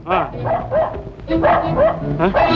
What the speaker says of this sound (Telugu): పాడు కుక్క ఊరికనే మురిగేస్తుంది.